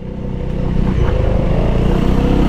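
A Honda Vario 160 scooter idling and revving through a WRX GP3 aftermarket exhaust, a steady close engine drone with low pulsing tone rising slightly, fairly quiet and muffled for an aftermarket pipe.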